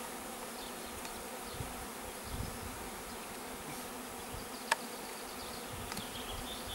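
A honeybee swarm is moved into a hive, giving a steady, dense buzzing drone from many bees close by, with a few faint clicks and knocks of handling.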